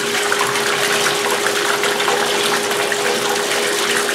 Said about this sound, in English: So we're going to let a little more water in here.